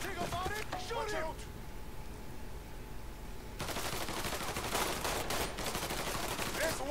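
Gunfire in the Mafia 3 video game, bursts of rapid shots early on, a brief lull, then a sustained loud volley of automatic fire, with a voice speaking over the opening moments.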